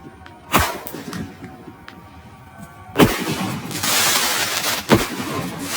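Roman candle fireworks fire during a night festival, several sharp loud pops and bursts spaced a second or two apart, with crackling hiss trailing after them, close by.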